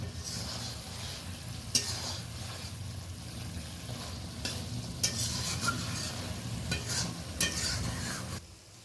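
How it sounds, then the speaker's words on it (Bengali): Stuffed pointed gourds (potol dolma) fry in a pan with a steady, close sizzle while a utensil gently nudges them, making soft scrapes and a few sharper clicks at irregular moments. "পুর দেওয়া পটলগুলোকে আমি সাবধানে একটু নেড়ে নেব"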